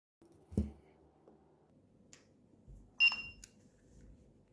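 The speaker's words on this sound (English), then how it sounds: "Press the sync button until you hear the beep." A Eufy 2K battery-powered video doorbell gives a short, clear electronic beep when its sync button is held, a single brief tone preceded by faint clicks and handling noise in a quiet room.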